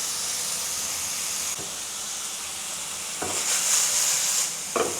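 Silken tofu sears in a single layer in a pan over medium heat, a steady close hiss and sizzle broken by a few brief scraping or stirring bursts.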